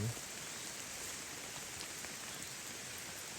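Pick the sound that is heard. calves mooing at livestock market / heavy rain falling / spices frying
heavy rain falling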